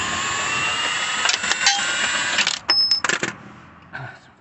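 Vise grip pliers working a bolt loose on a Nissan Qashqai +2 lower control arm, with a sustained metallic squeal and scraping followed by a few sharp clanks and knocks near at hand, no talk.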